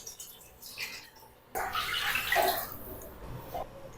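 Water poured into an oil-greased pan for cooking rice for Kashmiri dal chawal, a close splashing gush starting abruptly partway through and running steadily to the end after a quieter lead-in.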